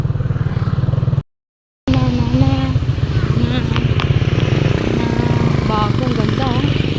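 A motorcycle carrying a rider and a passenger drones steadily with a low, throbbing engine hum that cuts out briefly and then resumes, while people talk over it.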